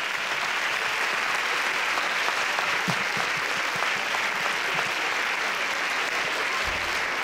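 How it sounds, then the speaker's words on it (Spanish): Sustained applause from an audience at a Three Kings coronation gala in Palma del Río, steady and dense throughout with no speech over it. "Un aplauso."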